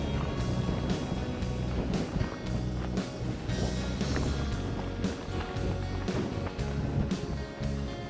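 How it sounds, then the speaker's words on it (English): Wind buffets the microphone on a canyon hiking trail in Kanopolis State Park, Kansas, as a loud, steady roar with rumbling gusts that continue through the whole clip. "Wind is just brutal today."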